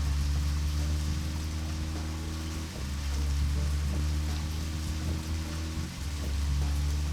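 Steady rain hisses in the video game Deadly Premonition over a loud, droning low hum, with the background briefly dipping twice.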